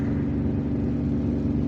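A car engine pulls in second gear at about 30 km/h up a very steep road in Algiers, a steady, loud, low rumble with no change in pitch throughout the short stretch.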